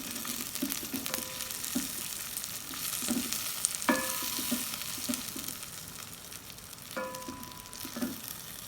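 Okra fries in ghee over low heat, a soft, steady sizzle punctuated by periodic scraping and stirring strokes from a utensil against the pan.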